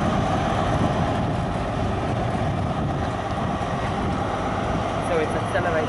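An Intercity 125 set topped and tailed with class 43 HST diesel locomotives pulls away, a loud, steady broadband engine roar and rail rumble that holds for the whole stretch.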